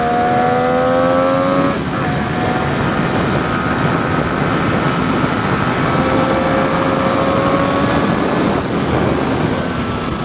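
A Triumph sport motorcycle's engine revs high while riding, its loud rising whine climbing through the gears over a steady roar of wind and road noise.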